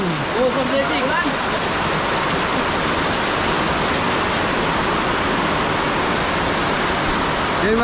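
Heavy rain pours down in a dense, steady roar that holds at a constant loudness throughout, with a faint voice briefly audible near the start.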